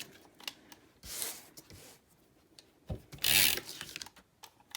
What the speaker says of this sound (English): I'm just going to take my tape runner